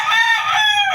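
A rooster kept as a backyard fowl gives a brief, loud, close crow, a bright harmonic cry lasting about a second.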